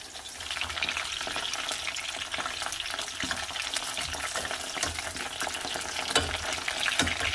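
Ground beef pieces sizzle steadily in a hot pan as they fry to golden brown and crispy, a dense continuous crackle with light stirring scrapes and occasional louder pops, close and unbroken throughout.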